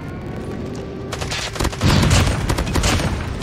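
Shotgun fire in Call of Duty Mobile, a burst of loud repeated blasts after a quieter lead-in, with several sharp shots in quick succession and no talk.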